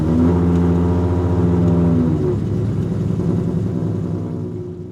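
A 1995 Ferrari F50 engine driving, a loud, close, steady mechanical drone with the pitch dropping slightly partway through and the sound easing off toward the end.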